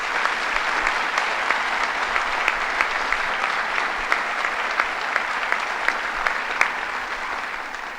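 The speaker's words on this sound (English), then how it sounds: "So let's give them another round of applause." A sustained round of applause from an audience at a governor's announcement of a U.S.–Cuba biotech venture, dense steady clapping filling the room with a few sharper individual claps standing out.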